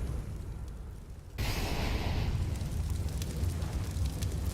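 HE grenade explosions in the Counter-Strike match on Train, a muffled blast that suddenly swells into a sustained roar of debris and rumble, fairly loud and continuing without speech.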